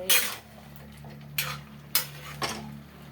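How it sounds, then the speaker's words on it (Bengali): A spoon scrapes and clinks in a pan while bottle gourd leaf paste is stirred into a dish, giving four short metallic strokes over a faint, steady low hum. "এটা দিয়ে জাস্ট স্টিমটা একটু বাড়িয়ে নাড়া দিয়ে মিলিয়ে দেবো"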